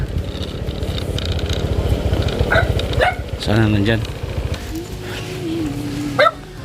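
A dog barks a few times nearby amid people talking, with a low engine rumble in the background.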